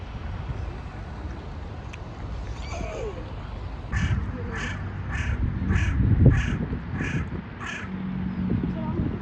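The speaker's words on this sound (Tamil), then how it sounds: "காக்காவோட சவுண்ட் கொஞ்சம் டிஃப்ரெண்டா கேக்குது ஃப்ரெண்ட்ஸ்." A crow caws in a quick series of about seven evenly spaced calls, moderately near, over an outdoor background murmur in a Belgian town.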